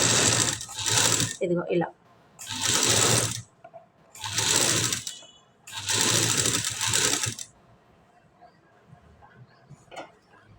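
Sewing machine stitching piping onto fabric in short loud bursts, four runs of about a second each separated by pauses, with a voice talking briefly between them.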